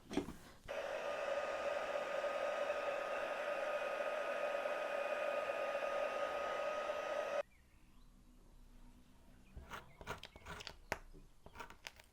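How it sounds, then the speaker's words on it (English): A heat gun dries a watercolour painting of a tower cottage, roaring as a loud steady blowing whir for about seven seconds before cutting off, followed by quieter handling clatter and clicks. "I'm going to dry the whole thing off with the heat gun"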